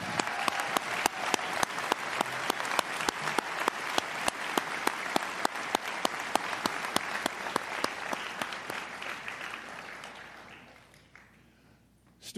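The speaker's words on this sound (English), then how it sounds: "Another round of applause for that fine choir." Audience applause for a choir at the inauguration of a county executive, a dense, steady ovation with sharp claps throughout that fades out over the final seconds.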